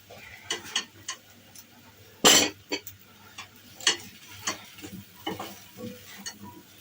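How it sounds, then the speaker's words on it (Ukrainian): Pepper fries in a pan for lazy stuffed peppers, a faint sizzle broken by scattered clicks and taps of a utensil stirring, with one loud scrape partway through. "Просто його трішечки підсмажити"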